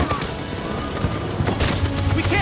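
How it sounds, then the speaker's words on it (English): Machine gun firing in Detroit: Become Human, a dense, continuous rattle of rapid gunfire with booming impacts, loud and chaotic over a busy battle background, with faint voices mixed in. "That machine gun is taking down everything that moves!"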